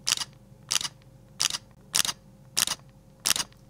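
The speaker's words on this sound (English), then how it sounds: "This is X-T30 Mark II with the mechanical shutter." A Fujifilm X-T30 Mark II mirrorless camera fires its mechanical shutter six times in an even rhythm, each a crisp, close double-edged click with quiet between shots.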